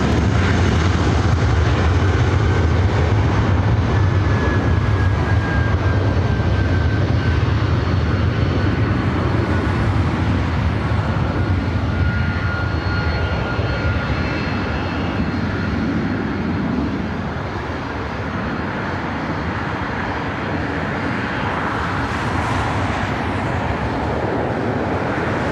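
An airliner lands at LAX with a loud, sustained roar of jet engines that holds strong and slowly eases off, accompanied by a thin rising whine, with no talking.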